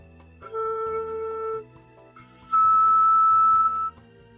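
A flute headjoint played on its own gives two sustained breathy tones: a lower note held about a second, then a clearly higher, louder note held just over a second after a short pause.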